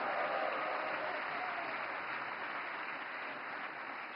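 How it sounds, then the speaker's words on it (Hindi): Steady applause from a large audience at a Navkar Day religious event, a dense even patter of clapping that fills the clip without a break and fades slightly toward the end. "नवकार मंत्र के लिए जितनी ताली बजी, उससे ज्यादा जीतों के लिए बज रही है।"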